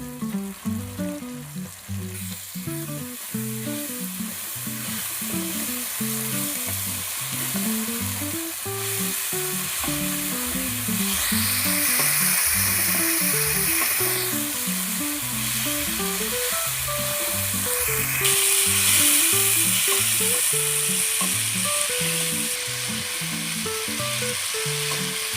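Spiced, marinated chicken tipped into a hot pan fries with a steady, continuous sizzle that holds for the whole stretch, sitting beneath loud background music.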